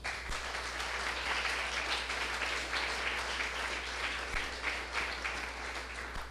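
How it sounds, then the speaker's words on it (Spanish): A church congregation claps together in sustained, evenly loud applause that runs for several seconds without a break, with a steady low hum underneath and no voices. "¿Cuántos le aplauden?"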